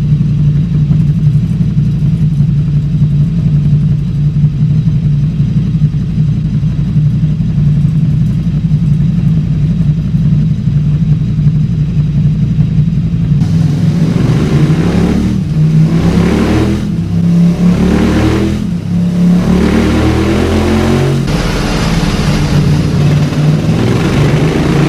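KTM Super Duke 1290 R motorcycle on a dyno with the stock Akrapovic exhaust and KTM map, idling loudly and steadily before revving up through a series of rising and falling engine sweeps, with no talking.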